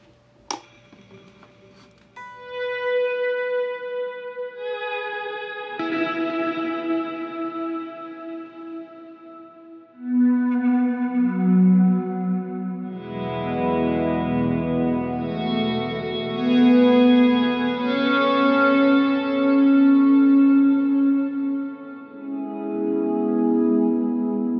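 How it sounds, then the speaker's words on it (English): Electric guitar run through an Axe-Fx II with a rotary speaker effect plus delays and reverbs, swirling sustained chords and notes with echo tails and a heavier distorted section near the middle, close and loud without talk. "But then I could also do rotary with some delays and some reverbs."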